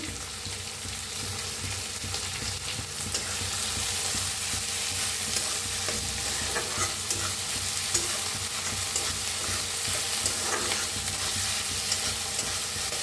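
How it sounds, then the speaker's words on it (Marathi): Tomato, onion and other vegetables roast in a pan while being stirred, giving a steady, close sizzle with scraping stir strokes throughout and no talk. "छान असे भाजून घेऊया"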